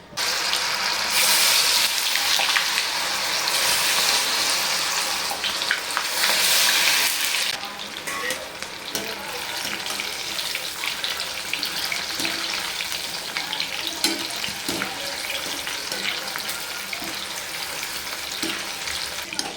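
Food frying in a pan for chicken chilli, a loud steady sizzle for the first several seconds that then settles into a quieter crackle with occasional stirring knocks.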